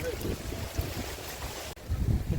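Strong gusty wind buffets the microphone on a rain-clouded mountain trek to Nageshwar near Choravane, Ratnagiri, a continuous low roar with a brief drop near the end.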